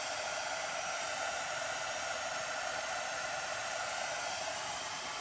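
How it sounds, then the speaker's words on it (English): A heat gun blows a steady, loud, even hiss of hot air up close while drying a scrapbook-paper craft for a covered Christmas tree, running continuously with no talking. "My heat gun."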